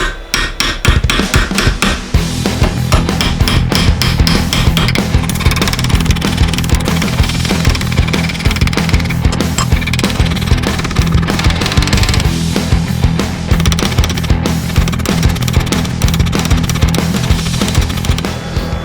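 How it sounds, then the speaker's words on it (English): A hammer strikes the edge of a copper pipe to stretch it, making rapid, loud, continuous metallic blows in a dense, steady rhythm for nearly twenty seconds. "we're just going to hammer around this edge back here, and it's just going to stretch the metal enough."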